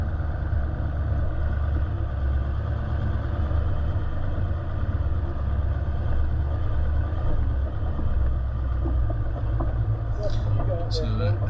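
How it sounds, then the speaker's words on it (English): A twin-locked 4WD's petrol engine idles low in the rev range while crawling uphill on a rough bush track, a steady close droning rumble with a few faint knocks and rattles near the end. "coming up that hill there, you heard it was sort of idling down low in the rev range and slowing up a little bit"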